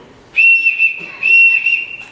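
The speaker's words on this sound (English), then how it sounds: "Everyone in this house answers to a whistle." A household summons whistle gives two long, shrill, steady blasts separated by a short pause, loud and close, with no talk over it.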